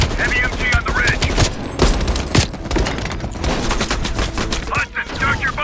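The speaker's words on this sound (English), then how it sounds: "Hudson, heavy MG on the ridge." Heavy machine gun fire in the Call of Duty Cold War video game, a dense, continuous rattle of rapid shots and booms packed throughout, loud and up close, with voices faintly mixed under the barrage.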